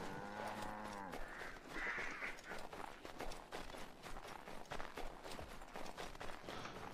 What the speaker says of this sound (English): That's a cow.